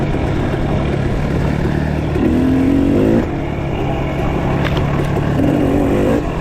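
A CR150F dirt bike rides off road and speeds up, its engine buzzing loudly and climbing in pitch in short revving surges before easing off.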